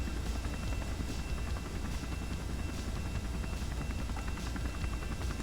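Helicopter flying in Kerbal Space Program, a steady broadband rotor drone with faint rhythmic blade pulses, continuous and fairly loud with no talking.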